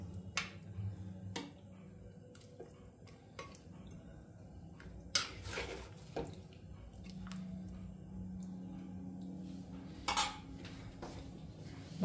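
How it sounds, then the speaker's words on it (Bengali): Mutton stew is stirred in a pot, with sparse, quiet clinks and taps of a utensil against the metal over a low background hum. "একটু নেড়ে দিই"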